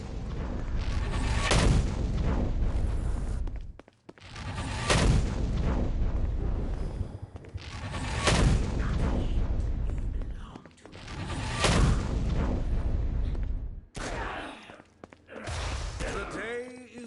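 Gunfire in the Saints Row game Gat out of Hell, with heavy booming shots in repeated bursts of several seconds each, separated by short gaps, loud and continuous, with a voice talking over them.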